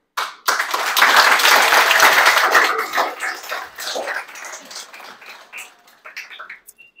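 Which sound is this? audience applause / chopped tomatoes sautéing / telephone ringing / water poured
audience applause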